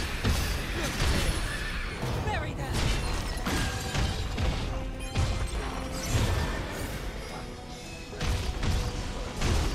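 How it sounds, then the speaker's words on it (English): A horse neighs and whinnies amid crashing, thudding effects in the game Stranger of Paradise, the calls repeating in loud bursts over a busy background. "I hit this horse."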